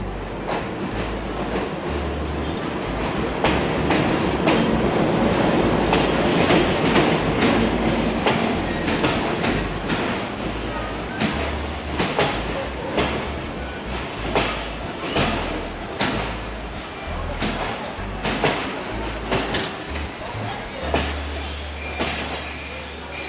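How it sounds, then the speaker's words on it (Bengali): A train pulls into Santahar railway junction, its wheels clacking over rail joints in irregular bursts alongside grinding rumble and high wheel squeal. It grows louder and closer, and a sustained horn-like tone enters near the end. "দূরে দেখতে পাচ্ছি আলো জ্বালিয়ে আসছে ট্রেন"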